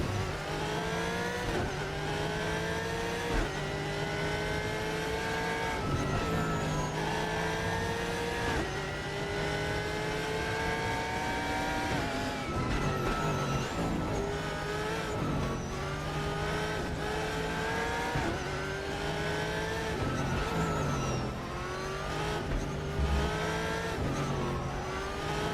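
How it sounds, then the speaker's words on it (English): A Corvette C6 Z06 engine in the racing video game RaceRoom roars and revs continuously, pitch climbing and dropping with repeated gear shifts, loud and up close with no talking. "God, I love the sound of this C6 Z06"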